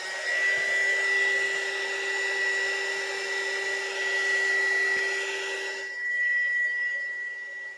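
A heat tool blows hot air onto a book binding. A steady, close whoosh holds for several seconds, then drops to a softer airflow near the end, with no talking.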